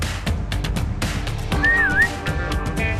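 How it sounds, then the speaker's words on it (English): A video game character whistles to call a companion back, a single clear rising-and-falling whistle near the middle amid clicky game sounds and background effects. "you can hold the left trigger up to your mouth and whistle to call them back"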